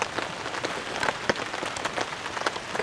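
Steady rain patters on surfaces around a campsite in a very wet, bear-country forest, a dense hiss of close drops with brief louder splats scattered throughout and no voices.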